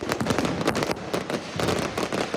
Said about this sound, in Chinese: 过来就是2万多粒的高空烟火秀